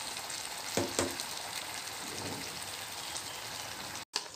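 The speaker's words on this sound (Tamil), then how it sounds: "இப்போ நல்லா வந்து கிளறி விடலாம்." Raw mango pickle (thokku) fries steadily in a pan with a soft continuous sizzle, broken by a couple of brief scraping stirs early on; no one speaks.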